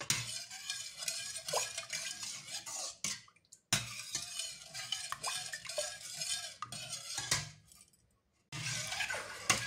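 Banana, sugar and vanilla juice mixture stirred steadily in a container by hand, continuous close scraping and swishing with light clinks, breaking off briefly twice, no talk.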